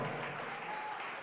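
Church congregation clapping together in sustained broadband applause, steady and fairly loud, ending in a sharp louder burst at the close.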